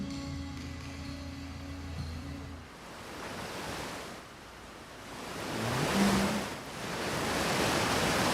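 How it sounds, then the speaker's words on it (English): A loud waterfall in the video game Outer Wilds roars as a broad, continuous rush of water that swells and dips, heard alone after a brief musical tone at the start. "Sound of this very loud waterfall"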